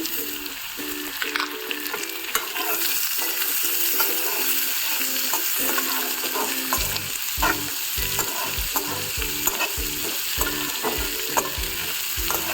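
Mango pieces fry in a pan, a continuous hiss of sizzling under repeated rhythmic stirring knocks and scrapes, close and fairly loud, with no talking.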